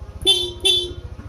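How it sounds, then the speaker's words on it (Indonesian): A car horn honks twice in quick succession, short and sharp over the low rumble of an idling motorcycle engine. "klakson"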